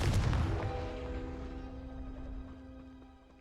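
A Confringo spell cast in Hogwarts Legacy bursts with a loud fiery boom, then a ringing tonal tail slowly fades over a few seconds.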